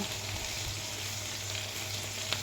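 Labong, bamboo shoots, sautéing in a pan: a soft, steady sizzle with low background hum and one brief clink near the end, no talking.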